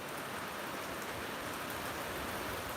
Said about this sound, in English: I'll just let this bit of rain pass. It's a bit of a squall, a bit of a white wall of water.